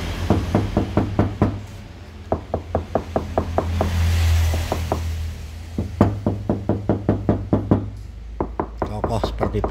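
Knuckles knock repeatedly on a soundproofed Toyota Zenix body panel, giving close, dull, solid thuds in quick bursts of several raps with short pauses between them, set against a low steady hum.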